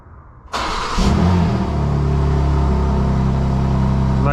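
A 2024 BMW M2 G87 engine cranks after a brief quiet moment, catches with a loud flare of revs, then drops into a steady, deep idle rumble close by.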